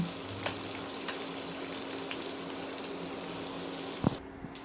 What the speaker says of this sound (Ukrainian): на невеличкому вогні дуже гарно підсмажуємо цибульку